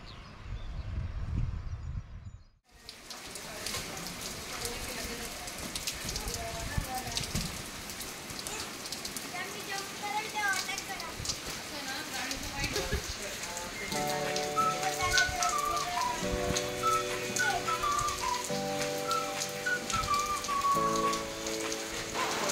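Steady rain falls outdoors in a village, a dense, even hiss of drops on surfaces that holds close and continuous, with faint whistle-like tones rising in the later part.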